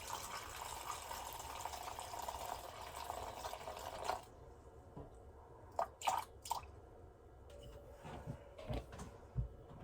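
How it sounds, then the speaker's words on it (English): Warm water poured into a sourdough mix: a steady wash of running, splashing liquid for about four seconds, then scattered wet drips and squishy sloshes, fairly quiet and with no talking. "350 grams of warm water."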